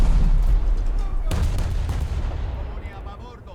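Heavy naval gunfire and shell hits on an enemy ship's bridge area in World of Warships, played from a Trento heavy cruiser: a loud low rumbling boom with a sharp blast near the start, rolling and slowly fading.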